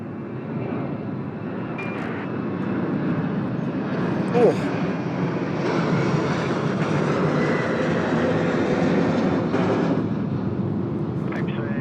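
An airliner departing Sydney Airport for Hobart gives a loud, sustained broadband engine roar that swells and holds steady for several seconds, with someone talking over it.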